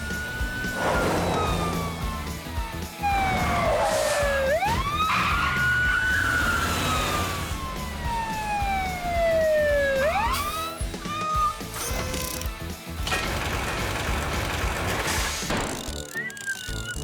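A cartoon emergency vehicle's siren from PAW Patrol wails loudly in long rising and falling sweeps, repeating over a steady engine and background bed with no talking.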